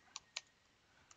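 A few faint, sharp key taps on a computer keyboard while a measure name is typed: two close clicks, then a pause before a softer third tap, with no talking.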